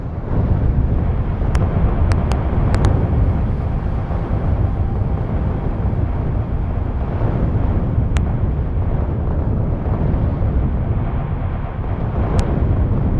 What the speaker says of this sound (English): Just gotta keep the explosions on the edge of the screen, or it will be like super crackling loud.